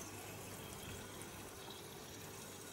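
KH Plus water conditioner pours into an aquarium, a steady continuous liquid rush with an even, unbroken level throughout.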